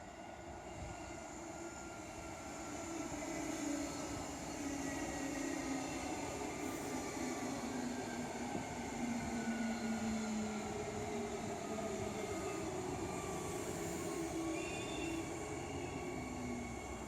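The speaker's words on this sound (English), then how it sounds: "here's the train coming in now." A train pulls into Cockburn Central Station, its steady rumble rolling past close by with drawn-out tonal whines and faint squeals over nearly twenty seconds, with no voices.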